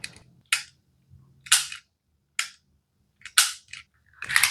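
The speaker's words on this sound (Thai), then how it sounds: "ปืนอัดลมสปริงชักยิงทีละนัด" A KWC M92 spring-cocking airsoft pistol with a plastic body fires single shots: about six sharp, close snaps, evenly spaced with short gaps, with faint cocking clicks between them and no talk.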